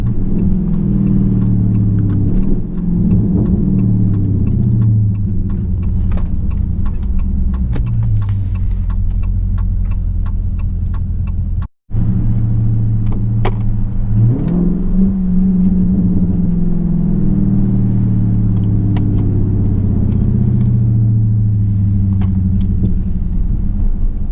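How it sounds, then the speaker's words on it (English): A Dodge Charger Scat Pack with its muffler and resonator deleted rumbles loudly from the cabin while driving, its exhaust popping and crackling repeatedly after throttle lift-off, with steady engine drone and a brief dropout midway. "Once you let the gas go, it keeps popping and popping."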